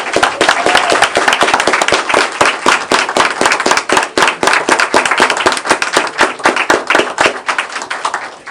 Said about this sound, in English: Let's give all these young people a round of applause again.